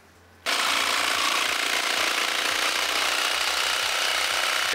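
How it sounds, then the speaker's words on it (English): A power drill bores into the metal roof of a skoolie bus to mount a MaxxFan, starting abruptly after a brief quiet and grinding loudly and continuously close by. "Next up, we are going to drill in the thing."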